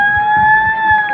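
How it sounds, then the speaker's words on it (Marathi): A 108 ambulance siren sounds during a district Republic Day parade in Hingoli, a steady two-tone wail held loud and close for the whole moment, with low thumps of crowd or drum noise underneath. "रुग्णवाहिका मंचासमोरून गेलेली आहे 108 रुग्णवाहिका"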